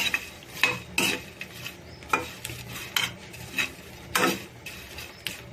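Dried prawn heads fry in a pan while a utensil stirs them in repeated scraping strokes, roughly one every half second. A light sizzle runs underneath.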